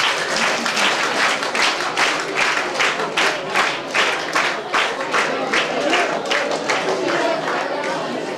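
Audience applauding NCC cadets at a training closing ceremony in Janakampet, a dense, steady round of many hands clapping at close range that holds for several seconds with no break.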